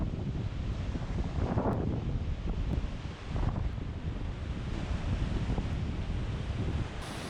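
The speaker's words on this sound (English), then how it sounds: "winds today were quite unusual in that they were downstream winds" Strong downstream wind blowing through a river canyon on the Middle Fork Salmon in Idaho, a loud continuous roar buffeting the microphone with gusty surges and no voices.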